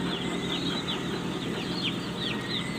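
Day-old chicks in a poultry brooding area give a continuous dense chorus of high chirps and peeps, steady and fairly loud throughout, with no voices.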